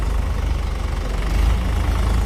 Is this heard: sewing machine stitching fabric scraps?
no